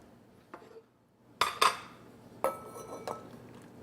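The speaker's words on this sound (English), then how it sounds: "Take a big ladle of that soup." A metal ladle scoops vegetable-laden borscht from a cooking pot, giving several sharp close clinks and scrapes against the pot, separated by short quiet gaps.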